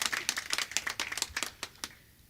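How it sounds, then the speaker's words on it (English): Audience clapping at a university graduation ceremony, a burst of scattered, fairly quiet handclaps that thins out and fades over about two seconds. "I think they deserve a hand clap from all of us."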